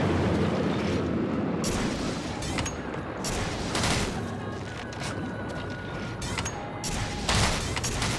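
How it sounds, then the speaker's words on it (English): Water jets erupting in Monster Hunter 3 Ultimate, a dense, continuous roaring gush with broad rumble and bursting surges throughout, loud and close, with no speech over it. "And there's the water jets."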